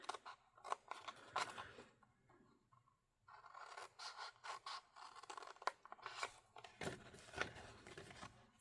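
Scissors snip through Christmas craft cardstock along score lines in close, repeated crisp cuts with short pauses between strokes and no talking.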